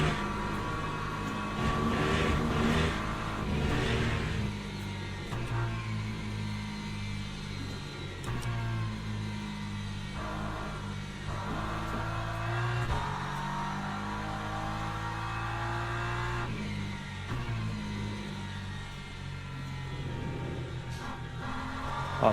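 A race car engine in the Le Mans Ultimate sim at Paul Ricard drones steadily, with repeated rises and drops in pitch as the driver shifts and brakes through corners, heard alone and fairly loud throughout.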